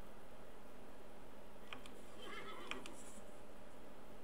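Saddled horse in a video game giving a short neigh, faint and thin over a steady hiss of ambient background, with a few soft clicks around the whinny.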